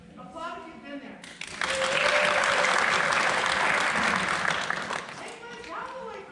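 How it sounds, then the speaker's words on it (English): A theatre audience at a live comedy show bursts into loud, sustained applause lasting a few seconds, with a performer talking just before it rises and again as it fades. "Applaud if you've been there."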